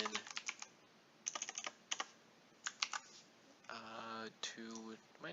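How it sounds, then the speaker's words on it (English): Typing on a computer keyboard, bursts of quick close key clicks in uneven runs with pauses between them, then a voice speaking near the end. "am I typing this wrong?"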